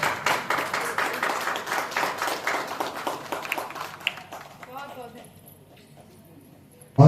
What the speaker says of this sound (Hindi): जोरदार तालियां हमारे चेयरमैन सर TSG भास्कर जी के लिए।